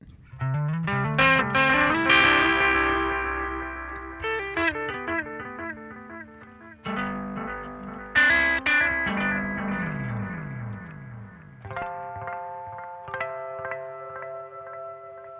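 Electric guitar runs through an analog delay pedal set to custom mode with distortion added, gritty sustained notes and bends trailing into repeating echoes, played alone at moderate volume.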